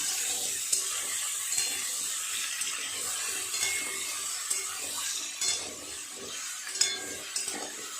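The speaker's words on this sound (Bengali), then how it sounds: "আলু দেওয়ার পর ঝিঙে আলু খুব ভালো করে আরেকটু নেড়ে চেড়ে ভেজে নেব" Ridge gourd and potato pieces fried in a pan, stirred with a utensil, giving soft scraping and light sizzling with occasional clicks, fairly quiet and steady.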